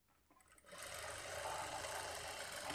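Sewing machine stitching a straight seam on a blouse lining: a short quiet start, then a steady, even mechanical whir that runs to the end.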